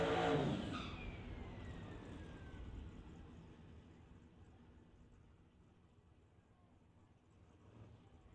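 A Ford Mustang drag car driven by Chris Gould rolls into the water box on the far side of a drag racetrack; a brief louder engine burst at the start fades into a faint, distant, steady rumble.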